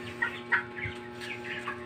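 Soft, scattered clucking from chickens close by, a few short calls spaced irregularly over a steady low hum.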